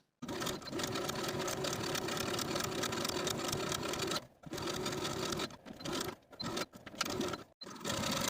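A sewing machine runs steadily while edge stitching a silk dress facing around a neckline, a loud continuous whirring hum with a few brief pauses and restarts near the end.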